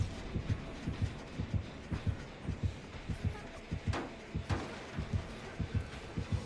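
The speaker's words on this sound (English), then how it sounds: "You hear the heartbeats, which means there's a killer nearby" A killer's approach in the Dead by Daylight video game is signalled by a rhythmic game heartbeat, steady double thumps repeating throughout over faint background noise.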